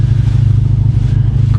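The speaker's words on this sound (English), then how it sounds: "So rev it up to about 3K." A tuned Honda Civic Type R engine held at about 3,000 rpm, a loud, steady low rumble with a slight rattling texture heard up close, with no talk over it.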